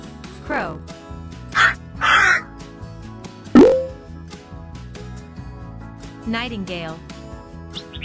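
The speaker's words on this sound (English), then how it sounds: "Crow." A crow's caw stands out clearly among a few loud animal-like calls over a steady musical backing in a children's animal-names song.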